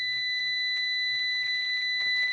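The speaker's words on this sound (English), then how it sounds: "Sounds like a fire alarm." A fire alarm sounds a loud, steady, piercing electronic tone that holds unbroken throughout, with faint pulsing beneath it and no voices.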